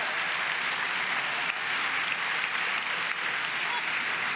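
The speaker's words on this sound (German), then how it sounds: "Und das ist ein Applaus." A live show audience in a kursaal hall fills the space with steady, dense applause throughout, an even wash of clapping heard at moderate distance without any break or speech.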